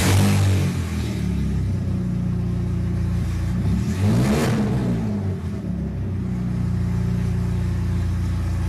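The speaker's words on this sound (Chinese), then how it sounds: "然而当毛先生启动汽车后，汽车发动机处却传出了巨大的异响。" A minivan engine starts up making a loud abnormal noise, a heavy continuous rumbling drone that holds steady throughout with a brief surge midway, close and dominant with no talking.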